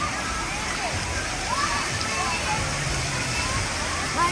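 Water at Dollywood Splash Country water park splashes and rushes in a steady wash of sloshing, with a busy crowd murmuring faintly in the background.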